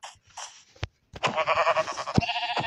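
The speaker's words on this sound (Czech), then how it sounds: "Hele, ovce!" Several short sheep bleats in a crafting video game, a couple of faint calls followed by a louder, quavering bleat close up.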